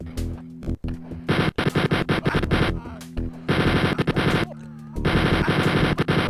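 Wolfenstein 3D's big gun rips through a whole line of enemies in long, rapid bursts of loud chattering fire, broken by brief pauses and scattered game effects.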